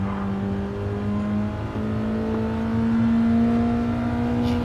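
Touring race car engine held at maximum revs during a classic championship practice race, a loud continuous high-pitched drone with steady pitch and a brief shift partway through, no voices.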